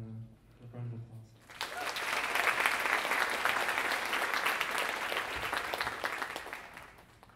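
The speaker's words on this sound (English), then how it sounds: "So let's just give Leon a round of applause." A church congregation breaks into a round of applause after a quiet stretch with a voice, swelling to a steady mid-level clapping that holds and slowly eases.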